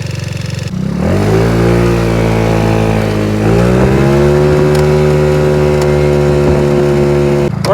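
A Taotao motorbike engine idles loud and close, then revs higher around the midpoint and holds a steady, raised drone to the end, with no voices over it.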